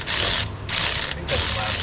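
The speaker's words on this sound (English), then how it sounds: "Let me get this last bolt out back here." A ratchet clicks in fast bursts while backing out the last bolt on the pan of a ZF 8- or 9-speed automatic transmission, three close, loud runs of ratcheting separated by brief pauses.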